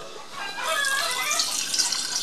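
Water pours into a cooking pot at close range, a steady splashing rush that swells after a brief start and holds for a couple of seconds while a potato leaf and eggplant dish is prepared.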